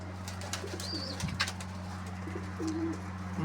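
Pigeons coo softly in a loft, a low steady hum running underneath and a few brief higher chirps breaking in, with no voices.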